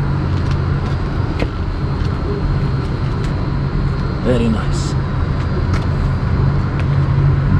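A big-cab Volvo FH12 truck with a 500 bhp engine is on the move, a loud steady road drone and rumble from the cab throughout, with someone talking briefly over it.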